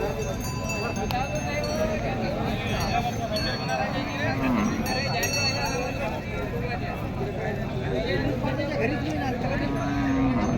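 Bulls low at a large cattle and bull market, deep drawn-out calls rising over steady crowd chatter and background voices.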